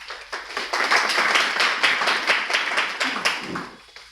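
Audience clapping in welcome, dense rapid applause that swells and holds, then thins into scattered claps toward the end, with no talk over it.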